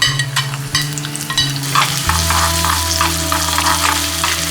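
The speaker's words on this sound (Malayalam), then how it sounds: "നെയ് ചൂടായതിനു ശേഷം നമ്മൾ ആദ്യം മാറ്റി വെച്ച രണ്ട് മൂന്ന് ഉള്ളി ചെറുതായി വട്ടത്തിൽ അരിഞ്ഞത് നമുക്ക് ഇതിൻ്റെ അകത്തോട്ട് ഇട്ട് കൊടുക്കാം" Thinly sliced onions drop into hot ghee for uluva kanji, bursting into a loud, steady sizzle and frying crackle that fills the clip, with a few stirring scrapes near the start.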